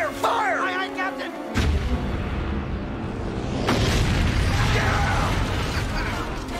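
A cartoon ship's cannon goes off with a sudden deep boom after a shouted order, followed by a long, loud rumbling blast and debris roar that fills the rest of the scene.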